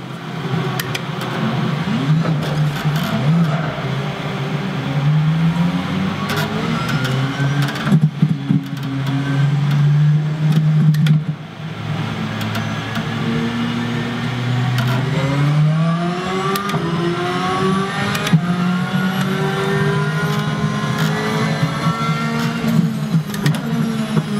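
An Audi DTM race car in the RaceRoom sim racing game at Silverstone, engine droning steadily with rising and falling revs through gear changes, continuous and up close with no talk.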